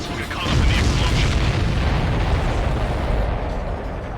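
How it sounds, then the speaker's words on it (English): A huge explosion from the Ace Combat 7: Skies Unknown flight game rolls in as a sustained, loud, deep roaring boom that swells within half a second and rumbles on without letting up. "We're too close. We'll get caught up in the explosion."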